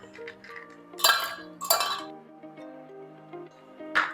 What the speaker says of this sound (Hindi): आइस क्यूब डालेंगे।